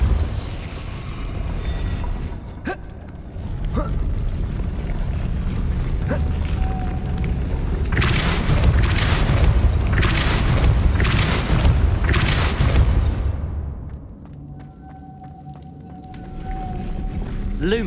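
Several heavy, booming Depulso force blasts sound in Hogwarts Legacy on PS4, a burst of deep whooshing thumps in quick succession with creaking magical rumble, loud and close, followed by a quieter hum.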